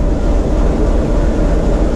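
A diesel locomotive engine runs under heavy load at steady revs, producing a continuous loud, dense rumbling drone with no breaks, heard close up.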